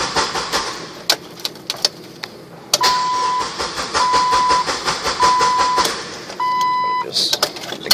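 2003 Jeep Wrangler with a suspected dead fuel pump and a gas tank that won't hold fuel, its engine cranking repeatedly without catching, with rapid churning bursts, clicks and chiming tones, loud and close.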